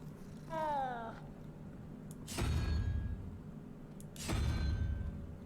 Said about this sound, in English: Oh, I didn't realize the cat was at my feet.